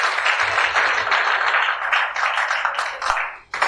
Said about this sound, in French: On l'encourage également avec des applaudissements.